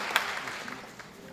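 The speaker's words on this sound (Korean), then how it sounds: "자리 있을 때 박수 한번 주시면 고맙습니다" A seated crowd at a civic talk concert for a city mayor's second anniversary in office gives a brief burst of applause, moderately loud with a few sharp claps standing out before it thins.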